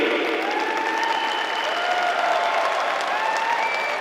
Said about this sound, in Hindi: मैं चाहूंगा अब तक की सबसे जोरदार ताली